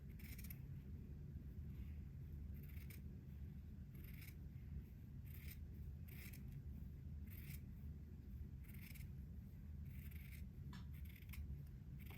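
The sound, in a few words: scissors trimming batiste fabric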